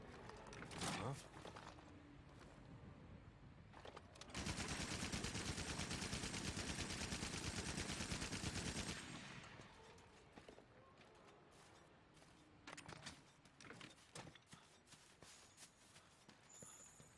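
Rapid-fire weapon in the Ratchet & Clank game on PS4 lets loose a sustained burst of continuous gunfire lasting several seconds, dense and steady, bracketed by scattered shots and game noise.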